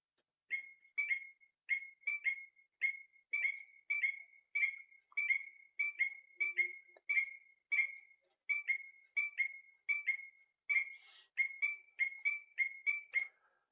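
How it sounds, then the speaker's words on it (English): Several Strecker's chorus frogs (Pseudacris streckeri) give loud, clear squeaky-wheel calls in a steady repeating rhythm, roughly two chirps per second, close by with no voices. "Here's what they sound like. Strecker's chorus frog, Pseudacris streckeri."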